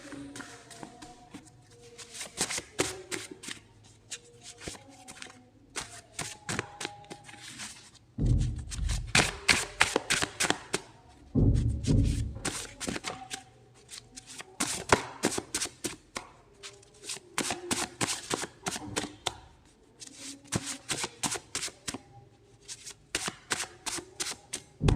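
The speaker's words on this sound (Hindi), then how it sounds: "हम एक कार्ड और निकाल लेते हैं आपके लिए।" A tarot deck is shuffled by hand over and over in quick bursts of riffling card flutter and soft taps, close and crisp, with brief pauses between rounds and no talking.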